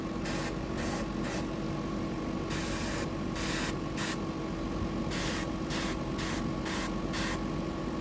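Short bursts of an aerosol spray applying a transparent coating to a fishing fly in an orange prawn pattern, hissing on and off in quick repeated puffs over a low steady background hum.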